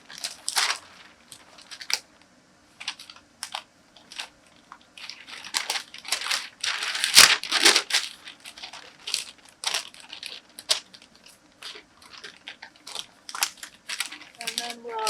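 A paper skirt pattern is folded and pinched closed at a dart apex, giving repeated close crinkling and crisp paper rustles in short irregular bursts.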